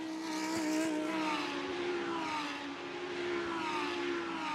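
Lamborghini Super Trofeo race cars at Road Atlanta, a continuous roaring engine drone with shifting pitch as cars pass and accelerate, moderately distant and steady throughout.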